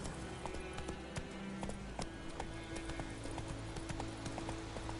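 Geralt's horse Roach trots in The Witcher 3, a quick, even clip-clop of hooves close by under a steady low ambient drone, with no talking.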